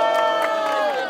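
A crowd at a rap battle in Cuiabá cheers and shouts loudly for MC Rick, a brief dense burst of voices filling the space.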